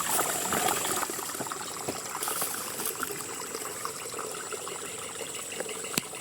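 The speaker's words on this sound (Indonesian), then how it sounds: "akhirnya ketemu sungai juga" River water in a forest flows with a steady trickling wash, a close, continuous stream sound with a few small splashes and a brief knock near the end.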